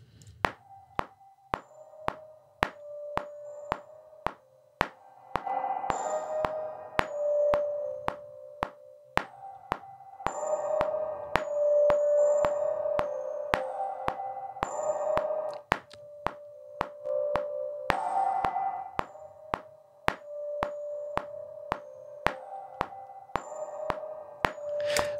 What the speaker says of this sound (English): let's go ahead and pull up a spring-type reverb here.